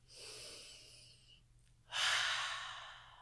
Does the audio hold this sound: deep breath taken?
yes